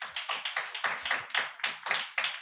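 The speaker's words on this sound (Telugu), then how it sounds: "చప్పట్ల కొట్టు ఒకసారి." A congregation at a church communion service clapping in a steady rhythmic beat, about a dozen sharp, evenly spaced claps, close and fairly loud with no talk over them.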